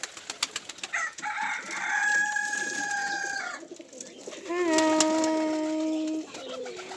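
Pet pigeons in a nest with eggs, giving soft bird calls and cooing tones in several bursts, close by, with brief faint talk.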